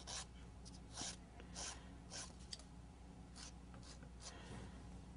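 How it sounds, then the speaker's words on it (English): A nail buffer files and shapes natural fingernails with soft, close rasping strokes in a quick, uneven back-and-forth rhythm, faint and alone. "I can file with this side and just gently remove the shine with the other"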